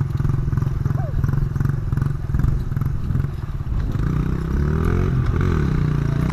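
Dirt bike engine revving loudly through a wheelie attempt on grass, a steady droning roar with rising pitch sweeps near the end, while someone talks over it.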